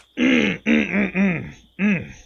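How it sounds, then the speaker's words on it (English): A series of short, voiced throat-clearing grunts, four or five quick bursts close to the microphone with brief gaps between them. "clearing my throat"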